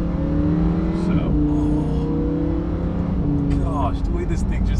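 A Lamborghini Huracan's engine hums and rises through revs with a steady roar and a couple of upward sweeps, close and loud, with someone talking over it.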